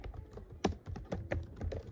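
Keys clatter on a computer keyboard in quick, uneven bursts of soft clicks, close and fairly quiet, with no talking.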